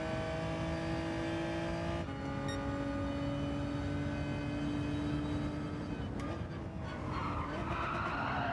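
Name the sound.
race car engines in the video game Gran Turismo 7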